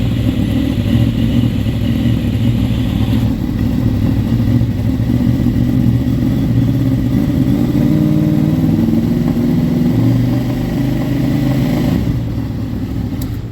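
Honda VFR800 motorcycle engine with a failed stator, revving up and holding at higher revs with a steady, loud, close drone that eases slightly near the end.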